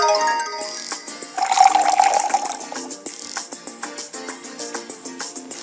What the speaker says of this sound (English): let's water the bean pod with the watering can